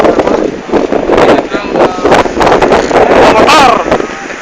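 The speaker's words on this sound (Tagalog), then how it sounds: "Sandstorm dito!" A sandstorm in Riyadh, with strong gusty wind roaring and buffeting the microphone in uneven surges, loud and close, while voices call out intermittently underneath.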